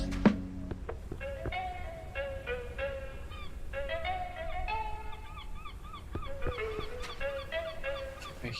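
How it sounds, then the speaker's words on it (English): Birds call in the survival video game Under a New Sun, a steady chorus of honking, goose-like cries repeating in overlapping bursts over a constant ambient background. "Oh, there are birds."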